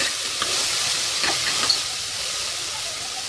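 Ginger-garlic spice paste fries in hot oil for chana masala, giving a steady, close sizzling hiss with faint stirring scrapes throughout and no voices.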